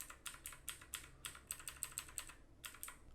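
Keys clicking on a computer keyboard as the left and right arrow keys are pressed repeatedly, about a dozen crisp, evenly spaced taps close by, with no voices.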